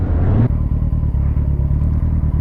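Kawasaki ZZR 1400 sport motorcycle with a roughly 200 hp engine, loud and close, drops sharply from a higher rev to a steady, lumpy idle that pulses evenly to the end.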